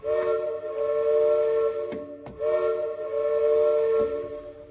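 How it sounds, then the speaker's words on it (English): A steady, sustained train whistle effect with strong harmonics from an Allen GW4 digital theatre organ, interrupted briefly by a couple of sharp clicks before the whistle resumes and holds. "complete without a train whistle. You can have one of those."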